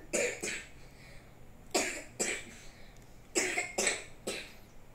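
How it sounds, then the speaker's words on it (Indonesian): Three bursts of coughing, each two or three harsh coughs close together, separated by short pauses, recorded fairly close. "Waktu saya batuk begini"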